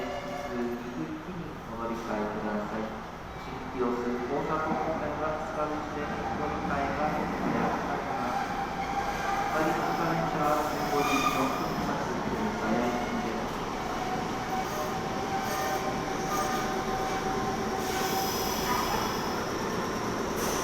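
A Japanese train pulls into a station in Nagoya, a steady rolling rumble with rising rail noise lasting throughout, close by, with voices talking faintly beneath it.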